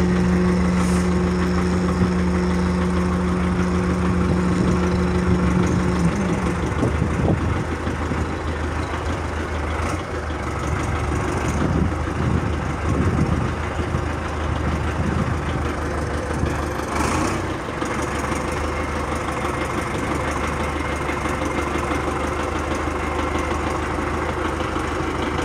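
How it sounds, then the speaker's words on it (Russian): Engine of a new tractor runs at a low steady idle-like drone while it drives out, with a brief tonal hum early on and some clunks and rattles, fairly distant and continuous, with no talk. "Вот таким образом нам прибыл новый трактор."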